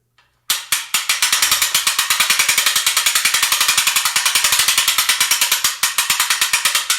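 A winch on a 20 ton shop press clicks steadily as it raises the press base, a loud, close, rapid ratcheting rhythm running without pause through the clip after a brief silent start.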